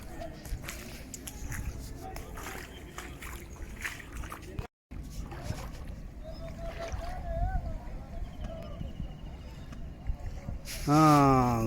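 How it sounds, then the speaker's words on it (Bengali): A boat moves through the flooded streets of Sarfa village in Chauddagram, Comilla, with steady rumbling and water sloshing while voices talk nearby. A brief loud rising tone sounds at the end. "এটা হলো বোট চলতেছে সরফা গ্রামের মধ্যে"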